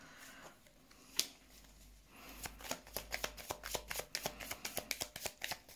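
Oracle cards are shuffled by hand, a single snap followed by a rapid, rhythmic run of crisp flicking riffles, close and clear, with no talking.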